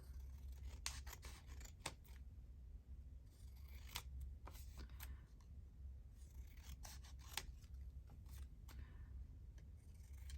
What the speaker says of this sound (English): I'm just going to cut this out.